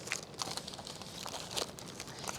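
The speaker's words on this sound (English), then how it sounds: "Stick it in a plastic bag." A plastic bag crinkles softly outdoors on a windy day while gear is packed into it, making faint, scattered rustling crackles with no talk.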